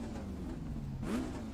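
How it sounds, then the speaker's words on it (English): A V8 race car engine in a racing video game, a Ford versus Ferrari event at Sebring, hums steadily at idle and then blips upward in a brief rev, close and alone. "This is a V8 engine, I think."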